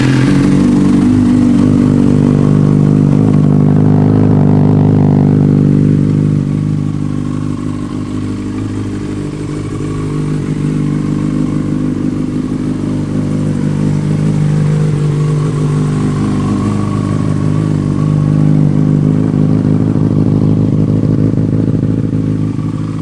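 A 2009 Yamaha FZ6 motorcycle engine runs loud and close with a steady, throaty mid-range drone, dipping slightly partway through before settling back to a strong idle, with no talking.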